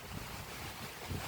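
Water flows steadily from beneath a tree's roots into a river, a brief, even rush of noise heard up close.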